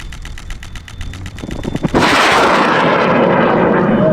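A high school built amateur rocket engine ignites with a short stutter of rapid pulses, then bursts into a loud, steady, close roaring rush of exhaust as the rocket launches.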